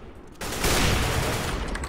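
M4 rifle fire in a video game erupts after a short quiet lead-in, a dense, loud burst of rapid shots sustained to the end with no talk over it.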